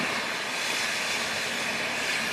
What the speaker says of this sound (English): That fumarole blowing that steam,